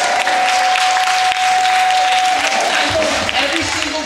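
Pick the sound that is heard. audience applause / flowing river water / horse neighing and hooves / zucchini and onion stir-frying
audience applause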